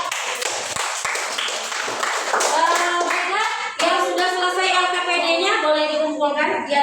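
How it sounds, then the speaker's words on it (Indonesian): Students in a grade 4 classroom burst into steady rhythmic clapping that continues throughout, with children's voices and a teacher's voice ringing out over the applause. "Kita kasih aplaus untuk teman kita yang bertanya dan menjawab"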